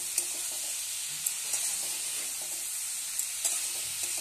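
Turmeric frying in a hot pan, a steady close sizzle with occasional soft clicks of stirring, no voices.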